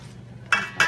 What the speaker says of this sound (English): I'm gonna add my flour to this juice. I'm just gonna start whisking it together.